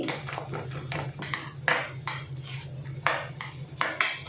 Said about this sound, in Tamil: இப்போ இந்த கிரேவி ஊற்றினதுக்கப்புறம் நல்லா வந்து ஃபுல்லாக அடிச்சுக்கிறோங்க, எல்லா பக்கமும் மிக்ஸ் ஆகுற மாதிரி